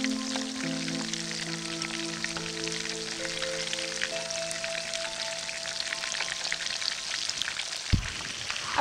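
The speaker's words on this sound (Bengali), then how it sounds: "এদিকে এই চিকেনগুলোকে আমি একটু উল্টিয়ে দিচ্ছি।" Deep-fried chicken pieces bubble and crackle in hot oil as they are flipped, a dense steady frying sizzle with a low tonal hum underneath and a brief clunk near the end.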